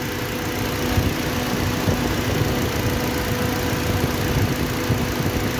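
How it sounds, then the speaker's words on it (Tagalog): A Ford EcoSport that is overheating idles steadily up close while its auxiliary cooling fan runs, a constant mid-pitched engine hum with an even fan whir and no talking. "I-check natin yung auxiliary fan kung umiikot ba."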